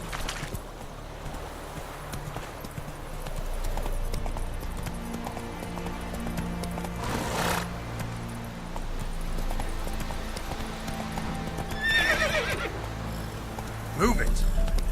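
Roach, a horse in the Witcher 3 video game, neighs and clip-clops at a gallop, with a sharp whinny near the end, under a steady music bed and spoken game dialogue.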